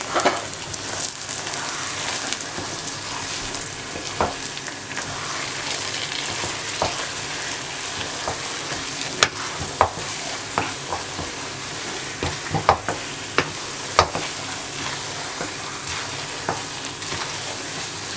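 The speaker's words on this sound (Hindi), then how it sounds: "नट्स शामिल कर दें और मिक्स करें, और साथ ही 1 चम्मच घी का मज़ीद डालें।" Bread halwa with nuts and an extra spoon of ghee frying and being stirred in a pan, a continuous close sizzle with scattered spoon scrapes and clicks throughout.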